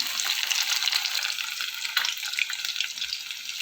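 Pieces of fish fry crispy in hot oil, a dense, steady sizzle and crackle heard up close with small bursts and pops, alone without speech.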